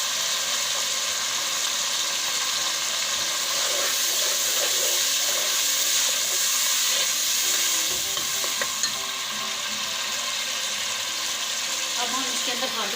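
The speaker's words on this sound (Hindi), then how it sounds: "2 से 3 टेबलस्पून हम इसके अंदर दही ऐड करेंगे।" Yogurt sizzles steadily in a hot pot of oil for matar pulao, a continuous loud frying hiss with occasional stirring scrapes, near and without talk.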